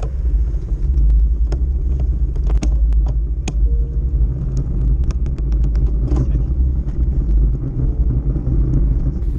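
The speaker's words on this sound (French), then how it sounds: "Et là on peut voir qu'une voiture s'arrête." Low rumbling of a car engine idling as it pulls up and stops beside a road cyclist during an amateur road race, steady and close, with scattered sharp clicks and knocks over the hum.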